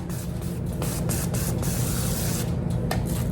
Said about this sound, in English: I am just using some avocado spray. And so you just want to spray them lightly